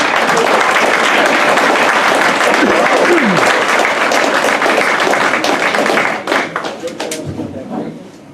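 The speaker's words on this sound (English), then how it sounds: "One more big round of applause for this crew." An EMS banquet audience gives the ambulance crew a loud, dense round of clapping that holds steady for several seconds, then thins into scattered claps and fades out, with voices calling out over it.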